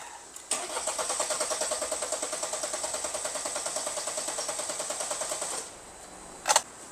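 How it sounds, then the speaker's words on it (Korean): Mercedes E220 with a no-start fault, starter cranking steadily and rhythmically for about five seconds without the engine catching, close and fairly loud, followed by a short clunk. "이 상태로 한번 시동 또 걸어 볼게요."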